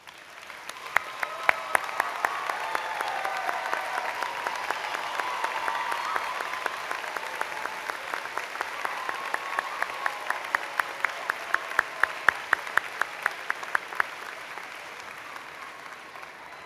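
Family and friends of graduating students applaud at the Berea College commencement, a long steady wash of clapping from a large crowd, with sharper individual claps standing out near the end.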